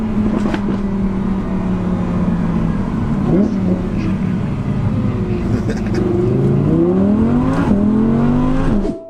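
An Audi R8 V10 Plus engine accelerating hard, a loud close roar that climbs in pitch through repeated gear changes, with brief dips between shifts, continuous over the whole stretch.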